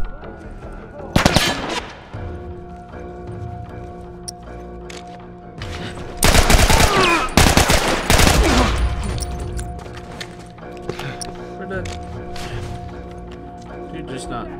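Assault rifle gunfire in The Last of Us Remastered, loud rapid bursts around two, six and eight seconds, with a steady hum of game music and ambience between the volleys.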